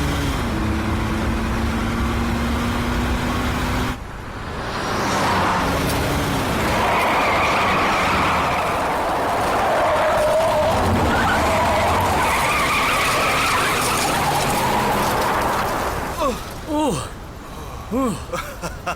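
A car races hard with engine whine and loud tire skidding and squealing, a long slide building over several seconds amid background music and a few shouted voices, ending in sharp screeches.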